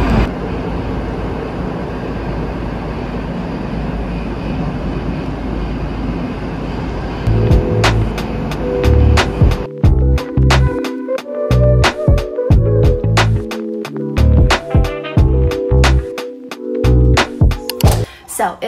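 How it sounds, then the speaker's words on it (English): Metro train in a city underground, a steady rumbling ride in the first half, then loud clanking and rhythmic rattling bursts of cars passing close, with no talk. "I'm gonna show you now how our metro looks"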